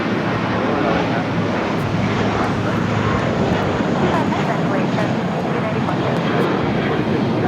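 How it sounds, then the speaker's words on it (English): A KLM airliner powers up on the south side at LAX, its jet engines a loud, sustained roar that fills the whole stretch, with voices talking faintly beneath. "KLM number 2 for takeoff here on the south side"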